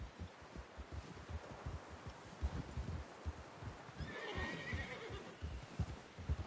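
A horse in Red Dead Redemption 2 whinnies midway through, a rising, shaky neigh over a steady rhythm of hoofbeats and soft background rustle.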